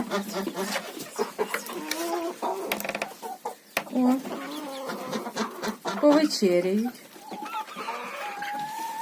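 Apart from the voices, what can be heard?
hens clucking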